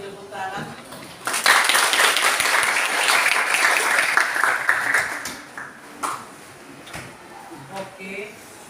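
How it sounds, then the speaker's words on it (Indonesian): Classroom applause during a literature lesson: after a brief voice, a roomful of students breaks into loud, fast clapping for several seconds, then it thins into scattered claps and a few knocks as talking resumes. "Ayo tepuk tangan."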